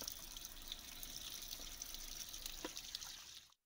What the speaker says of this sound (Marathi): आपोआप विदाऊट मशीनची पाणी बाहेर पडतं, ओव्हरफ्लो होतो.